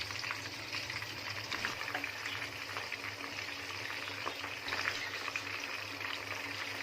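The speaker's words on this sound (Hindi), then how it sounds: "ये पीसेस ऐसे उठा के फ्राई कर लेना है। नॉर्मल सी आंच पे आपने फ्राई करना है इसको।" Chicken pieces fry on normal heat for Afghani chicken gravy, giving a continuous, fairly quiet crackling sizzle with bubbly spatter and no voices.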